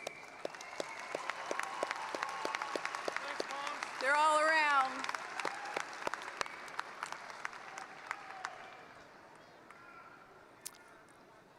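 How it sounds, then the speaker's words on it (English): A graduation commencement crowd claps in a steady round of applause, fairly loud and sustained, with a voice speaking briefly over it midway before the clapping thins out toward the end. "Graduates, please join me in giving a round of applause to your loved ones."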